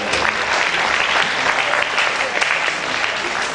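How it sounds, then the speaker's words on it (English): A seminar audience at a gender studies event gives a sustained round of applause, dense and even clapping that fills the room steadily from start to finish without pause. "she deserves another round of applause."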